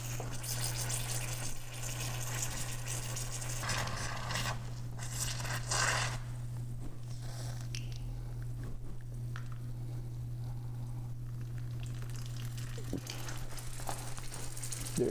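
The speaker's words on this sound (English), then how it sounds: "You can hear the air coming and the pressure coming through the" Air and cable lube forced through a motorcycle control cable with a Motion Pro Cable Luber V3 give a steady, close hiss and rush of pressurized spray, with a low constant hum underneath and no talking.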